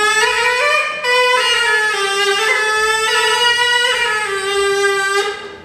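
A medieval reed clarinet fitted with a larger reed plays a loud, reedy sustained tone that slides and wavers in pitch over several seconds, close and alone.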